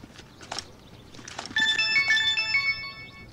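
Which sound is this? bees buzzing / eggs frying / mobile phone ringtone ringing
mobile phone ringtone ringing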